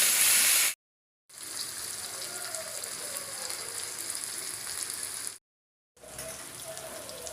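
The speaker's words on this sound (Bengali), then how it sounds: "পেঁয়াজটা ভালো করে একটু ভেজে নেব" Onions sizzle in hot oil in a pan, a steady, moderately quiet crackling hiss that cuts out briefly twice and then resumes.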